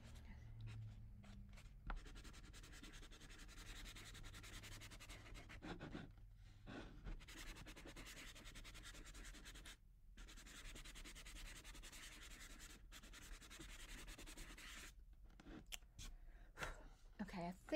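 A sanding block rubs against a stained mason jar in quick, scratchy back-and-forth strokes, close and quiet, with short pauses between bursts and occasional soft talk.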